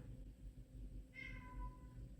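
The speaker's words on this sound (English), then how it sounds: "My cat is very talkative right now." A pet cat lets out a single clear meow partway through, rising and falling over a quiet indoor hum, with no one speaking.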